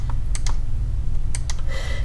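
Computer keyboard keys clicked in short bursts, a few separate presses then a quick cluster, over a steady low hum while working in PE Design 10 embroidery software.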